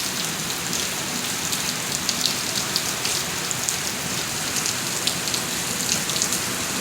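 Steady rain falls outdoors, a dense even hiss of drops spattering on surfaces, fairly close and continuous throughout, with no voices.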